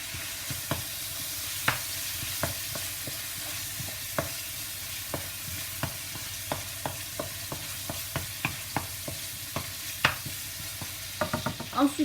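Shrimp with pesto sizzle in a pan under a steady low hiss, while a utensil stirs them with regular soft clicks and taps, quickening into a cluster near the end, no talking.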